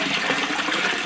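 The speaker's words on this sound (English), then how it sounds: "Let's just give these a quick rinse." Water runs and splashes over tumbled rocks during a rinse, a steady close gush without pauses.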